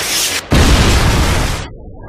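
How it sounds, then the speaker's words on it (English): A Predator missile strikes in a hardcore Search and Destroy match of Call of Duty, a loud close blast bursting at once into a heavy, roaring rumble that fades over about a second and a half. "Friendly Predator missile inbound."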